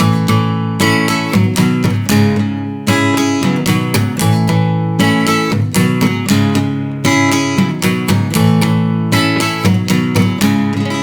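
A guitar strums a song's chord pattern at a brisk tempo, full and loud, with bursts of dense strokes grouped into repeating cycles and no talking.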